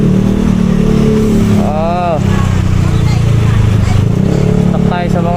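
Dense traffic in the Philippines with motorcycles and trucks, motorcycle engines droning and revving close by, a constant loud rumble with horn-like tones, and people talking over it.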